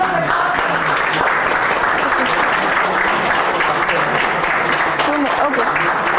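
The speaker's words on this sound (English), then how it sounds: "So a special round of applause." An audience at a workshop on inclusion of the visually impaired applauds in a steady, dense round of clapping that continues throughout, with faint voices mixed in.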